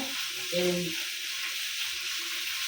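Food fries in a pan on a kitchen stove, a close, continuous hissing sizzle with a few faint tonal clinks underneath.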